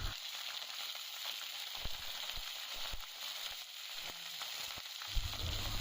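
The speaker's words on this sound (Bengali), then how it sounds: "চিংড়ি মাছটা দিয়ে একটু ভালোভাবে ভাজা" Prawns fry in a pan after black cumin seasoning, a soft steady sizzle with scattered small crackles and occasional stirring knocks, fairly quiet and without talk.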